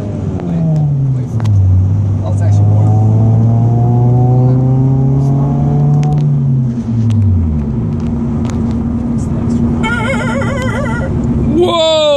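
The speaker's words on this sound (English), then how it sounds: "this car moves" A 2007 Honda Civic Si accelerates, its engine note climbing and holding in a loud, sustained drone before easing off, heard from close inside the car.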